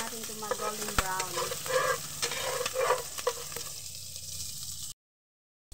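Garlic sautéing in a pan for a sinabawang pechay dish: a steady close sizzle with a few stirring scrapes and taps, moderately loud, then a sudden cutoff into silence near the end.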